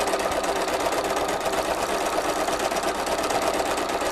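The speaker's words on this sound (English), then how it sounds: "break up the area that I'm stitching like this, so that I can keep that nice and flowing" Sewing machine stitching a loose-leaf notebook cover with Star Thread, a continuous dense mechanical whir at an even rapid pace throughout, close and loud with no talking.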